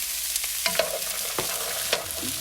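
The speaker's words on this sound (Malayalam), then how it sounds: "ഈ പച്ചക്കറികൾ 3-4 മിനിറ്റ് ഞാൻ വഴറ്റി" Green beans and peas are sautéed in coconut oil for a Kerala-style mixed vegetable curry, with a steady low sizzle and a few soft spoon scrapes and taps against the pan, no talking.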